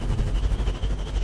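A spaceship in the video game Star Citizen accelerates to 1,000 m/s, giving off a brief, loud, rumbling roar with a dense, pulsing low-end texture and no talking.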